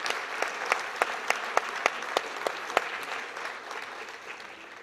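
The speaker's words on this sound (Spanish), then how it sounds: "quisiera nuevamente recibirles con un gran aplauso porque realmente se lo merecen" An audience claps in appreciation for teachers at a school cultural night at Colegio Alemán Stiehle in Cuenca, with steady crowd applause punctuated by sharper individual claps for about five seconds, with no voices over it.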